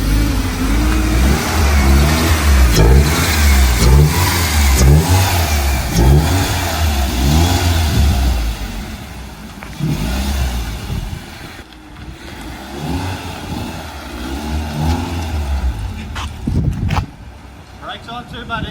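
BMW E36 engine revving and pulling away as the car drives, repeated rises and falls in pitch from a nearby engine, with someone talking over parts of it.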